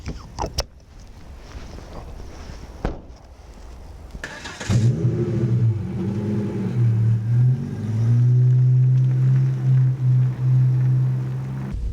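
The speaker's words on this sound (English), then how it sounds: "Right now we're trundling along the old-fashioned way, pumping out petrol exhaust in a built-up area." A car engine hums steadily, rising into a louder, sustained drone as the vehicle pulls away and keeps driving, with no voices over it.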